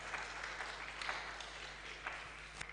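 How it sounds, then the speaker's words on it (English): Applause from the audience at a public speaking semifinal on challenges and opportunities for young people, a steady, moderately distant wash of clapping with no voices over it. "Once again, please give applause for her."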